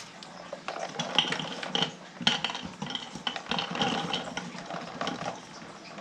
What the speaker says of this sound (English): So I'm gonna put them in my food processor.